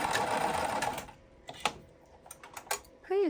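A sewing machine runs a short stitching burst through pleated puff quilt fabric, then stops into scattered light mechanical clicks as a voice talks nearby.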